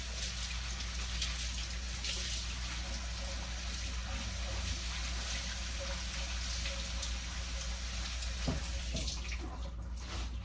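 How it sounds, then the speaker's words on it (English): Soaked pumpkin seeds rinsed in a small strainer under running water, a steady close splashing and trickling that holds through the clip, with a brief clatter near the end. "I just use a small strainer and we'll rinse it off."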